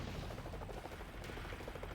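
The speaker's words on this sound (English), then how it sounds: "And then that's a transport helicopter." Transport helicopter in Armored Core 4, a dense continuous rotor and engine roar with a rapid pulsing chop, loud and steady throughout.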